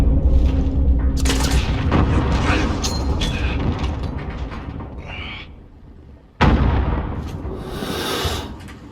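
Heavy booms and mechanical rumbles from a cruise missile strike in Call of Duty: Modern Warfare multiplayer, loud and dense, with a sudden blast after a brief lull and a faint voice under it.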